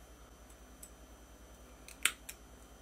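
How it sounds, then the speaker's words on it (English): A Bowden cable cut to length for a foot-powered cleaning station, a few soft faint clicks followed by one sharp snip and a smaller click, close and quiet with no talk. "I'll have to cut this to length."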